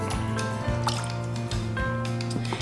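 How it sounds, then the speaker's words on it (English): Orange juice poured into a pot for cranberry sauce, a close, wet splashing and dripping stream running steadily under background music. "we're going to mix a half a cup of orange juice"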